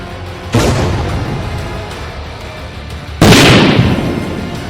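Two loud explosions a few seconds apart, the second stronger, from a drone attack on buildings in Moscow. Each booming blast fades into a rolling rumble.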